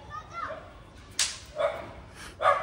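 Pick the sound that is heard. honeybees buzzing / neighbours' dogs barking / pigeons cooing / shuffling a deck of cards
neighbours' dogs barking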